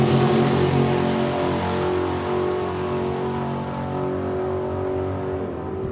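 A mechanical dragster on the Provincial Vodka Tour roars down the strip at Saskatchewan International Raceway in Saskatoon, its loud engine holding steady, harmonic-rich and sustained, then slowly fading as it pulls away.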